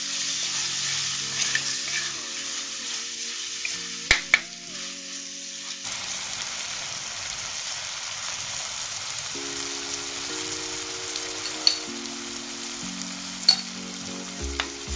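Chopped tomatoes fry in a pan for a fish curry, a faint steady crackling sizzle over background music, with a few sharp taps of a spoon against the pan.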